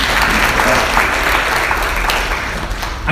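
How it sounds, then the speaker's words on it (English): A conference audience at a One Health and Biosecurity meeting breaks into sustained, dense applause that stays loud and even across several seconds, with faint voices mixed in. "I think they deserve a round of applause"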